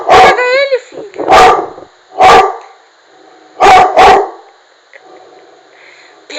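A small dog barks sharply and close up at its reflection in a mirror, a handful of yips in an irregular rhythm, with a whimpery whine near the start and brief gaps of quiet.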